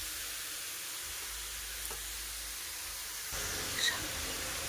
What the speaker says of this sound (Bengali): বিটটাকে এইভাবে নাড়া দিতে দিতে ভাজা করে নেব।